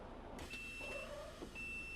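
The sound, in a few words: bus door warning beeps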